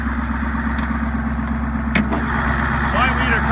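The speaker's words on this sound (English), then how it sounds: "Five-liter Cummins engine there." A five-litre Cummins turbo diesel V8 in a Nissan Titan truck idles with a steady low rumble and even, constant drone throughout, heard nearby outdoors with a brief knock partway through.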